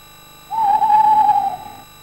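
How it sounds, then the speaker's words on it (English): An owl in a tree above a tent in a garden gives one clear, sustained hoot, loud and alone against a quiet background. "It began to hoot."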